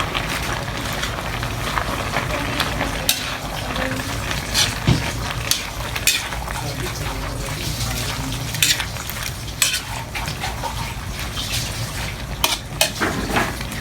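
Chicken fillet and pechay leaves being stirred in a pan, with steady scraping and clinking of a utensil against the metal over a constant background hiss and a few sharper knocks.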